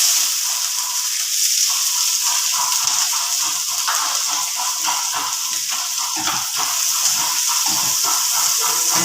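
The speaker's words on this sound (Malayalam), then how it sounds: "നമ്മുടെ കടുക് ഇവിടെ പൊട്ടാൻ തുടങ്ങിയിട്ടുണ്ട്." Mustard seeds popping in hot oil as chopped shallots fry in a pan: a loud, steady sizzle close by, dense with small crackles throughout, with no talking.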